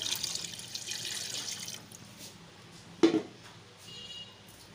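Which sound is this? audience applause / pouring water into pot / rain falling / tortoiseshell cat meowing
pouring water into pot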